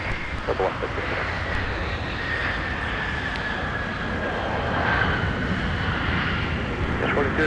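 At MSP airport in winter, a jet airplane roars close by with a steady, heavy engine rumble and a whine above it, with some wind buffeting. A faint voice can be heard under the noise.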